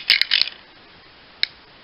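Shoulder joints of a Generations Roadbuster toy robot figure click as they are moved forwards and backwards, giving a quick cluster of sharp plastic clicks followed by a single click after a pause.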